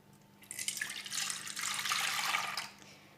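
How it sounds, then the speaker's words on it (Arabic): Milk poured from a container into a saucepan for a custard-style cake filling, a splashing liquid pour building over about two seconds before tapering off, close and fairly loud with no talk. "ندير الحليب تاعي"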